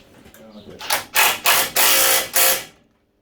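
A spanner ratchets in a workshop during engine stand work: five loud, rasping bursts of clicking, evenly spaced, after a quieter lead-in, then silence.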